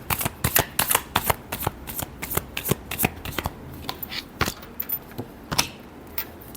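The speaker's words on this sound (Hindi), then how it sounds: "Last shuffle." A deck of tarot cards being shuffled by hand, a quick run of sharp papery riffles and slaps repeating close up with no voices.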